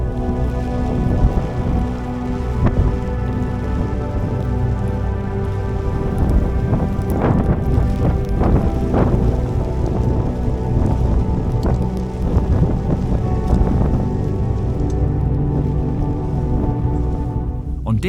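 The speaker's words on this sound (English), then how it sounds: "The conditions were really horrendous as I battled against the rain and wind to get the tent put" Heavy rain and strong wind batter a campsite in wet, windy conditions, a loud continuous roar with gusty buffeting and patter on nearby surfaces throughout.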